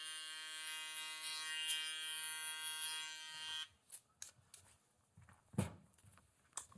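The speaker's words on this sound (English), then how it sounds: "Now, this is one of the newest shavers right here. This is a Flex." A Flex electric shaver buzzes steadily with a bright whine, running close and loud through a skin fade haircut for about three and a half seconds. It then cuts off, leaving faint handling taps and one thump.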